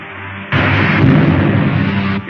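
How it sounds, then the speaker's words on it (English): Sci-fi spaceship blaster fire and explosion from a 1953 space adventure film, a sudden loud burst of broadband roaring blast that sustains for about two seconds before cutting off. "Fire a blast into the tail surface as I level out."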